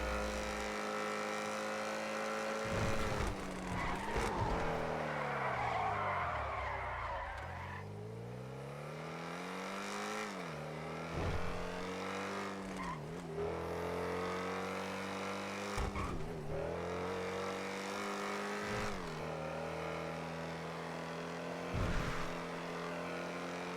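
A Honda NSX in a video game revs and shifts through its gears, engine pitch sweeping up and down repeatedly, with bursts of tire skidding and squeal between the changes.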